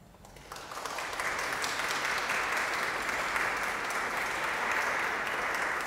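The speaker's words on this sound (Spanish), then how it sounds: "Vamos a darle un aplauso a Karen." Sustained applause fills a church after a prayer during a quinceañera celebration, building in the first second and then holding steady and dense.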